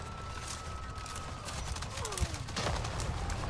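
Turret gunfire in the video game Avatar: Frontiers of Pandora, a dense steady rattle of shots with a few sharper bursts near the end, held under a constant game-sound backdrop.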